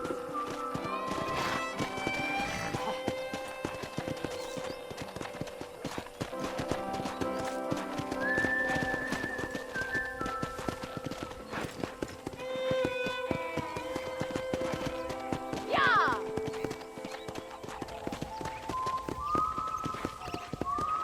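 Horse hooves clip-clop steadily in Red Dead Redemption as a rider tours a ranch, the even walking rhythm running throughout beneath game music, with occasional neighs and whinnies.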